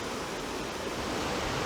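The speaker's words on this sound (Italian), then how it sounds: "Quando sento una cascata così, sempre io l'associo alla musica di Bach" Steady, dense rush of a waterfall, a continuous broadband roar that stays even and unbroken throughout, with no voices.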